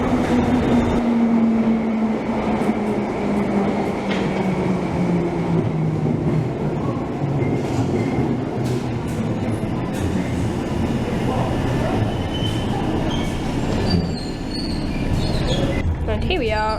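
A London Underground Bakerloo line train heading to Piccadilly Circus, with a loud continuous rumble of the carriage, wheel noise and a falling squeal early on, and some speech under the din.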